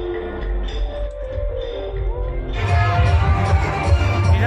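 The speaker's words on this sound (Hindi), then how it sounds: "इस कदर भीड़ है।" Dense crowd noise at the Chatti Jatra fair, a loud continuous outdoor murmur of many voices with shouts, swelling and growing busier partway through, heard close from within the throng.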